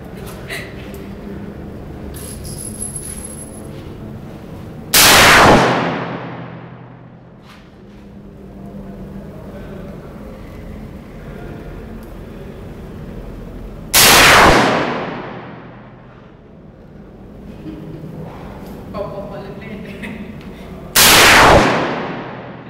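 Three loud, sharp gunshots ring out at an outdoor shooting range in Phuket, one of them from a Magnum, each spaced several seconds apart with a booming decay over quiet background noise.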